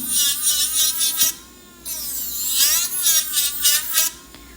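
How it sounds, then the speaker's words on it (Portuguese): An electric nail drill files down a polygel nail. Its high motor whine rises and falls in pitch over a gritty rasping, close up and fairly loud, with a short pause in the middle. "Então vou passar um pouquinho mais a broca aqui, porque eu tenho bastante produto pra me lixar"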